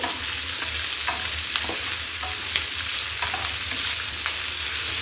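Onion fries with ginger garlic paste in a pan on low heat, a loud, constant sizzle with repeated scraping stirs at an irregular pace over a low hum.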